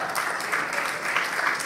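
Audience applause at the St. Lucia Jazz Festival, a dense steady wash of clapping from a large crowd that holds evenly throughout without pause.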